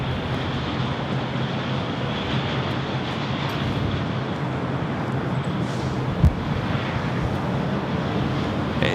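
An Asiana Airbus A380 arriving from Seoul at LAX gives a loud, steady jet roar that holds evenly throughout, with a faint high engine whine on top and no talk.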